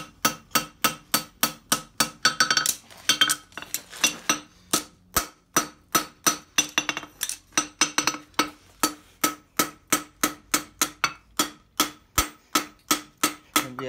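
Steady, ringing hammer blows on hot steel while a farrier forges a concave front horseshoe, roughly three strikes per second, loud and close, with a brief shift in rhythm early on and no talking.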